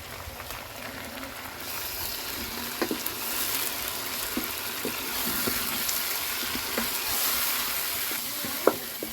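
Tomatoes frying in a pan with browned chicken make a steady close sizzle, with occasional clinks and scrapes of stirring.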